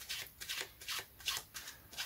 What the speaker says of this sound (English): then we shuffle off one card at a time